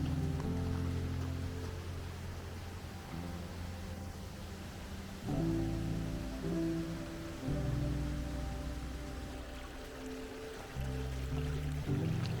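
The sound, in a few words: light rain drizzle outdoors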